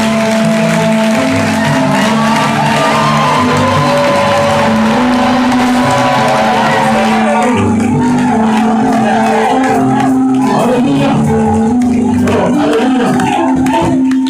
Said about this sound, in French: Est-ce que je demande aux mariés une acclamation des mariés?